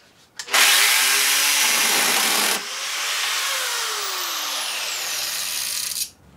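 A small 12-inch bar chainsaw bought from Amazon roars close up as it cuts into a wood knot, its loud high whine dropping in pitch partway through and then fading out after a few seconds.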